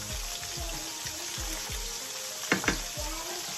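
Food sizzles steadily in a pan on a home stove, with a continuous close frying hiss and a couple of brief stirring clatters partway through.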